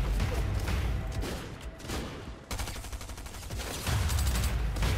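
SMG gunfire in the Fortnite video game: dense, continuous bursts of rapid shots that stop briefly and then resume, loud and close, with other game noise underneath.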